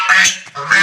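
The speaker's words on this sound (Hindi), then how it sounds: "ये हमारी बतखें हैं जी" Pet ducks in a garden plot give two loud, close quacks in quick succession, nasal and raspy, with no talk over them.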